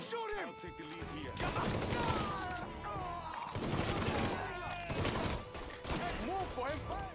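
Dense bursts of gunfire crackle in Mafia III, rapid overlapping shots coming in waves with loud impacts, mixed with shouting voices.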